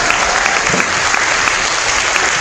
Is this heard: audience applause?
yes